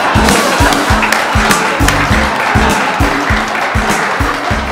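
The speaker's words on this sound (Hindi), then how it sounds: "ताली।" An audience at a Hindi comedy show claps loudly and rhythmically, the steady beat of hands repeating evenly throughout.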